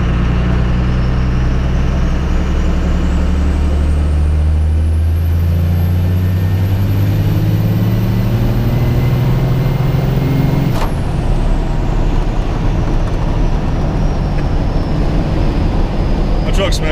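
A tuned diesel truck accelerates hard while rolling coal, its engine roar climbing steadily and loudly through the gears before a sudden cutoff, then a lingering whine as it coasts away.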